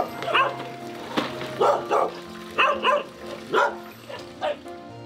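Several dogs bark at a shelter in the morning in short, repeated yips and woofs, spaced through the moment at moderate distance, with some whimpering between.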